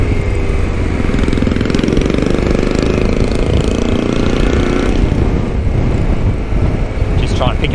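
Loud motorcycle engine, a Royal Enfield Himalayan fitted with a big aftermarket exhaust, rumbling steadily under heavy wind buffeting while riding, with faint crackles from the pipe and a voice talking over it.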